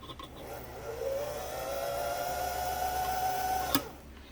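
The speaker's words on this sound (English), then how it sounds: "Turn it until it stops, and then you can wind your bobbin." A Singer 328K sewing machine runs steadily while winding a bobbin, its motor whir rising slightly in pitch and holding a smooth drone for about three seconds before cutting off with a sharp click.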